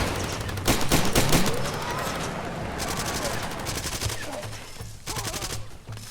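Wild, sustained gunfire in the video game Far Cry 2, with bursts of rapid automatic shots and scattered single cracks, loud and close, over a busy background.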